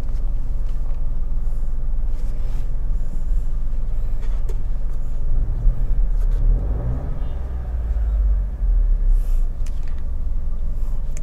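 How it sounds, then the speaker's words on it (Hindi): Mahindra XUV 300 engine running, heard from inside the cabin: a low, steady, fairly quiet idle rumble with faint mechanical ticks and a brief rise in the middle. "चलिए इंजन को स्टार्ट करके केबिन के अंदर कितना नॉइस आता है उसे देख लेते हैं।"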